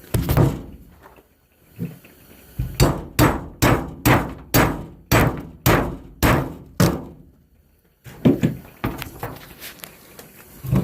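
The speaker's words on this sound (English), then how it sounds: "I'm going to hammer it under there and pull that pin out." Hammer blows drive a metal wedge under the underbelly of an RV being stripped for water damage, a quick run of about a dozen sharp, evenly spaced strikes up close, set between scraping and handling noises.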